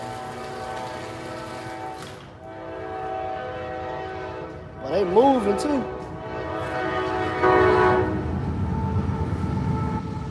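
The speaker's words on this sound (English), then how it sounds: "That train come like every 20 minutes." A train rumbles past close by with a long, wavering horn blast in the middle, while someone talks briefly over the noise.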